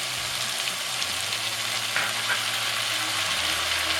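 Tomatoes added to a frying pan of onions, ginger-garlic and curry leaves for mutton curry sizzle steadily, a continuous close hiss of hot oil with a low hum underneath and no talking.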